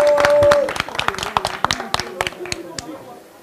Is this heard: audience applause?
yes